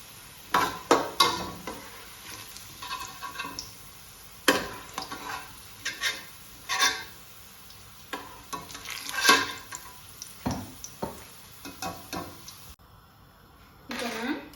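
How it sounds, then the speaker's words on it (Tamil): Onions fry in a pan for prawn biryani, with a soft sizzle under repeated scraping stirs and clanks of a utensil against the pan, close by and irregular, while a person talks intermittently. "வெங்காயம் இப்போ பொரிஞ்சிட்டது."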